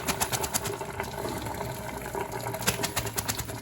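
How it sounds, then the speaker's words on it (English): Cooked angel hair pasta is poured into a strainer to drain its cooking water, giving a steady close rush of splashing, gushing liquid with a few sharper spatters throughout. "Drain that excess liquid out."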